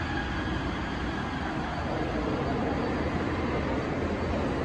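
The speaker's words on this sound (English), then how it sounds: "This train is packed out" Riding a crowded Taipei MRT train, with a continuous loud rumble and rushing noise of the moving carriage, steady from start to finish with no voices standing out.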